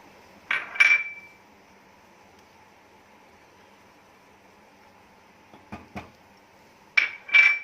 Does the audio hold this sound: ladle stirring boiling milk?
yes